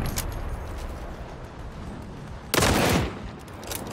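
Video game gunfire from a 14kg sniper rifle: one loud, booming shot with a short rumbling tail stands out over a constant background of game noise.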